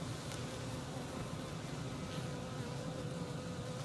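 Honeybees buzz around a hive frame with comb, a dense continuous hum of many insects at close range with individual bees droning past, steady and moderately quiet.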